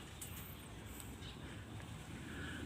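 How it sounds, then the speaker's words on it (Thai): Wind rising on a dark, overcast stormy day before rain, a steady broadband rush with low rumbling gusts that swell slightly toward the end, heard alone. "ลมก็เริ่มจะมาแล้วครับ"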